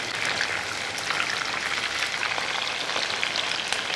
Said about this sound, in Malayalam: ചിക്കൻ ഒന്ന് ഇളക്കി കൊടുക്കാം ഒരുപാടങ്ങ് ഫ്രൈ ആയിപ്പോൾ പോകണ്ട